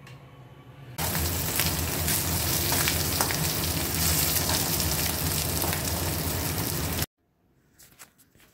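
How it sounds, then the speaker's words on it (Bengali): Katla fish fries in hot oil as a loud, dense sizzle that starts abruptly, holds steady for about six seconds, then cuts off to near quiet with faint clatter. "আজকে বানাবো মাছ ভাজা"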